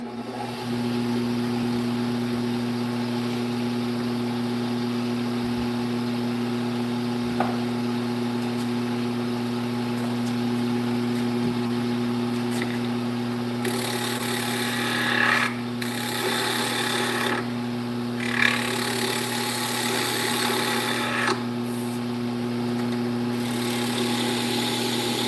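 A skew chisel cuts a wooden yoyo spinning on a lathe. The motor hums steadily, and from midway the chisel adds louder bursts of rasping, hissing shavings with brief gaps between them.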